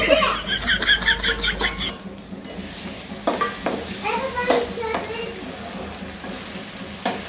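Ginger-garlic paste roasting in a pan for egg masala, with scraping and stirring clatter, a faint sizzle and bursts of laughter and chatter over the cooking.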